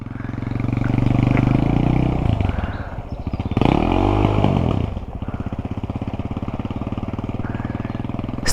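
A Raptor 250 quad's single-cylinder engine revs up hard, drops through a gear change, then climbs again before settling into a loud, rapid putter at close range.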